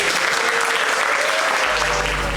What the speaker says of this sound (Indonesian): Tepuk tangan keren.